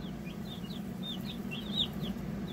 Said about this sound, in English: there they are, 25 Cornish crosses from the chick hatchery